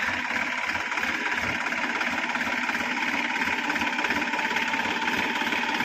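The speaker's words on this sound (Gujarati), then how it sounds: "નવો ડ્રાઈવર ચડ્યો ટ્રેક્ટરમાં" A tractor engine runs steadily and loudly throughout in a groundnut field, a constant droning rumble with no pauses.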